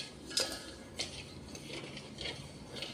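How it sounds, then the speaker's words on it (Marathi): Sugar syrup with cardamom is stirred in a metal pot over a gas flame, a spoon scraping and clinking against the pot in irregular close taps and swishes, fairly quiet, with no talking. "तर आता आपण ढवळून घेऊ।"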